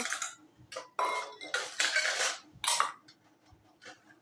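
Freshly washed kitchen utensils, a tawa griddle, a kadai and bowls, are picked up and set down one after another, giving irregular metallic clinks and clatters at close range with short quiet gaps between them.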